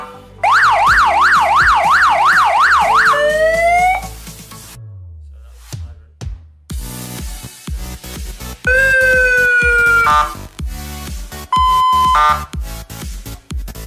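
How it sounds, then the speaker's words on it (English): An electronic siren, bench-tested on 12 volts through its speaker, blares up close, cycling through a rapid wail, then yelp and other tones, with pauses and clicks as modes switch. "I'm gonna plug the siren onto the 12 volts."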